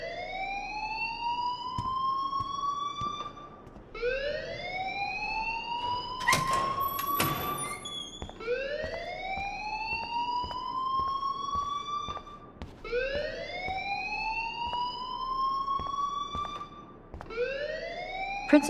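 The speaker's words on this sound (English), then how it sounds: "please turn off that alarm since that's your job" A school fire alarm in the video game Life is Strange wails loudly in rising sweeps that repeat roughly every four seconds, steady and alone with no talk.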